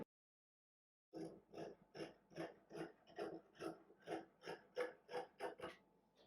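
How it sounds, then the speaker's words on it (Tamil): Scissors snipping through blouse fabric along the inner curve, a steady run of about a dozen close, evenly spaced crisp cuts after a second of silence. "இப்படி ஓப்பன் பண்ணிக்கிட்டு தான் இந்த உள் பக்க வளைவை நம்ம வந்து கட் பண்ணிப்போம்."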